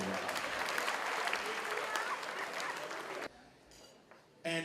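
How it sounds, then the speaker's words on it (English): Applause for Bank of India at the 5th Annual Banking Awards: a dense, steady wash of clapping from a large audience that stops abruptly, leaving a brief quiet gap before a short burst of clapping resumes at the very end. "If we give Bank of India a round of applause for this."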